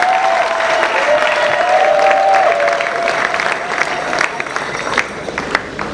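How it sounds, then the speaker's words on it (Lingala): A wedding crowd applauds and cheers for a guest, dense clapping that runs the whole stretch, with an announcer's voice carrying over it. "des acclamations pour lui"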